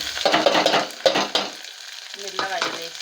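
Mustard seeds, cumin and chana dal frying in hot oil and being stirred, close and fairly loud sizzling with a few sharp stirring strokes against the pan.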